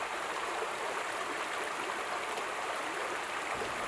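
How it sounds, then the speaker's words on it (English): A waterfall on Six Mile Creek at an environmental education centre pours in a steady, dense rush of falling water, close and continuous with no voices. "It sounds like one of the many cool water features at the EERC. This waterfall seems to be a fan favorite"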